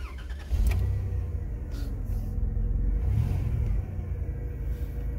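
A 1995 Plymouth Grand Voyager minivan, rusty, with a 3-liter engine, cranks briefly and catches, then settles into a steady, low rumbling idle that carries on alone with a slight flare partway through.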